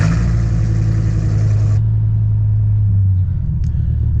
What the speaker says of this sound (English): Okay, so I'm gonna go ahead and drive the car.